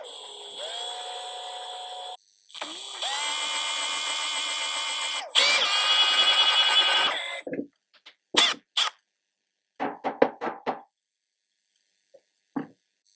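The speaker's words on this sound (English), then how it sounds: "I'm just going to use a drill bit to drill out the stopper." A drill bit drills out a stopper on a Stihl MS291 chainsaw: several sustained high whining bursts of a few seconds each, then short sharp scrapes and bits of grinding, with near-silent gaps between.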